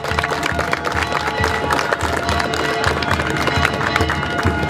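Crowd applause at the opening of a basketball tournament in Silacayoapilla honoring San Jerónimo: dense, steady clapping with scattered cheers, loud and continuous throughout.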